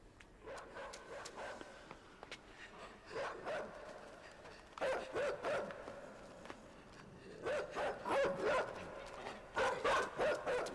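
A small dog barks in repeated clusters of yaps, fairly faint and at moderate distance, with short pauses between bursts.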